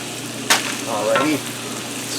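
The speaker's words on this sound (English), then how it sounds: "stir that all together" Southwestern corn with butter, lime juice and cumin sizzles in a skillet while a utensil stirs it, a sharp clatter opening the steady frying hiss and scraping strokes running beneath it.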